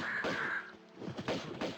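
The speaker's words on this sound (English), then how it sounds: "got a bunch of crows here" Crows cawing in Tomb Raider 2 on the Great Wall level, a few harsh nearby caws, first one drawn-out call and then a quick cluster of shorter ones.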